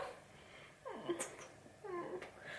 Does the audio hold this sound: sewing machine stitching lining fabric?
no